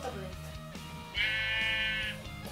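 Sheep bleating in a video game played on a tablet, a single sustained, wavering bleat of about a second over steady background game music.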